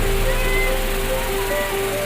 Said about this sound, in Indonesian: ternyata kita sudah sampai di air terjun tempat tujuan kita